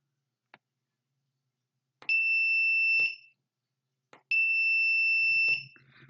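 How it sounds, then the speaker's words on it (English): A single-pitched active electronic buzzer on a Raspberry Pi 3 B+, switched by a button, sounds twice, each steady tone lasting about a second, separated by quiet pauses with faint clicks at the start and end. "turning the buzzer on, and turning the buzzer off when the button's released"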